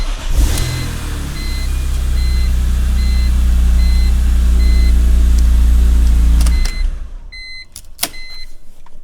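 A BMW E46 M3 with a freshly installed engine tune starts up, its deep, loud engine note running steadily for several seconds, then cuts off, followed by a few faint electronic beeps and clicks.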